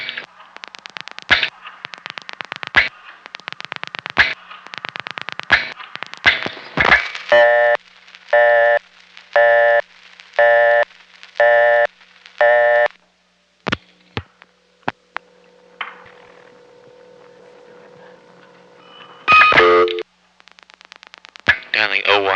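A telephone call is dialed through a crossbar exchange, with sharp clicks and clacks, then a regular series of pulsed tones. Sparse clicks and a faint hum follow, and another burst of rapid clicking ends the sequence.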